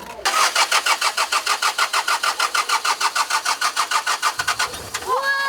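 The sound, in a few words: bus engine starting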